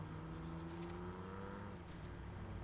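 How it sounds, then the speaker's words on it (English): A vehicle engine in the SnowRunner video game gives a steady, high-pitched, race-car-like drone with layered harmonic whine. It runs continuously at an even loudness for the whole stretch, with no voices. "don't mind the sound of this thing sounding like a race car"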